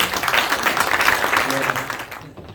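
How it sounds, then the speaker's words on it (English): Brief, dense applause rises from the audience at a cricket association launch event, a wash of many hands clapping close together for a couple of seconds before tapering off. "So come on, big round of applause to our level 2 coach."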